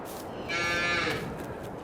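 A single drawn-out moo from a cow in the Farming Simulator 22 game, fairly close and clear, rising out of quiet background and fading after about a second.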